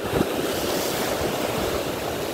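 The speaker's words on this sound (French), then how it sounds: "Alors, aujourd'hui, j'avoue, il y a beaucoup de vagues." Heavy ocean surf rolls continuously onto a rocky shore on a rough day, a loud, steady wash of breaking waves with some wind rumble and no voices.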